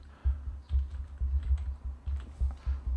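Fingers type a layer name on a computer keyboard in Photoshop CS4. The keystrokes come as bursts of close, clear clicks in an uneven rhythm, with short gaps between them and no talk.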